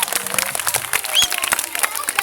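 Scattered clapping from an audience at a prize ceremony for top-ranked students, sharp hand claps popping steadily through the two seconds with voices murmuring underneath.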